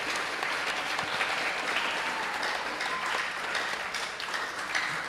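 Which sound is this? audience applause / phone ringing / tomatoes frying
audience applause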